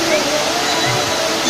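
Water gushing from shower spouts at Temberkuh natural bathing place in Pakpak Bharat, a loud, dense, continuous splashing roar close by.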